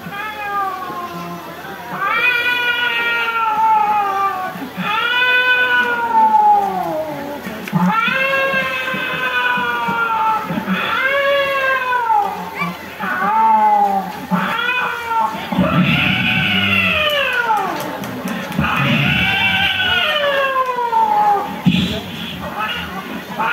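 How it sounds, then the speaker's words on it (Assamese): Two male cats face off in a fight, trading long, loud rising and falling yowls and caterwauls one after another, close by, with brief pauses and some background crowd murmur. "এই মতা মেকুৰী দুটা কাজিয়া লাগিলে কিদৰে তেওঁলোকে কাজিয়া কৰে"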